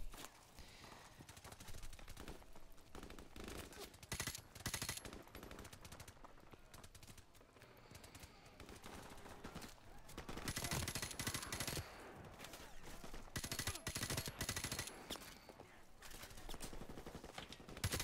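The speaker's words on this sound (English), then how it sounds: "we're engaging in massive heavy gunfire" Dense, sustained bursts of rapid automatic gunfire from the Call of Duty: Modern Warfare Remastered campaign, loud and nearly continuous, with heavy volleys rising and falling across the stretch.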